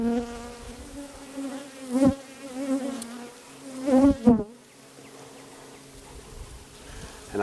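Honey bees buzzing around an opened hive during a frame-by-frame inspection, a close, wavering drone that swells with individual bees passing near, then drops to a softer hum.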